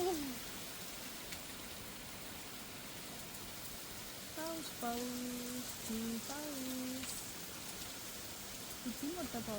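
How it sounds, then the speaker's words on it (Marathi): Heavy monsoon rain pours down steadily with wind, a dense continuous wash of noise throughout, while people talk over it in the middle and latter part. "किती मोठा पाऊस आला"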